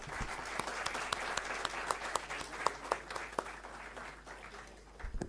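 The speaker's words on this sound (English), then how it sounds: "A round of applause for School of Law" Applause from a convocation audience for a law school group, a fairly quiet, continuous patter of many hands with a few sharper individual claps standing out.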